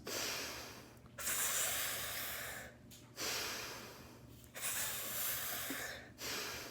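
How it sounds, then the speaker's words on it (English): Slow pursed-lip breathing, close and soft, with long airy hissing exhales broken by short pauses, repeated about four times with no talking. "You can purse your lips and do the pursed lip breathing"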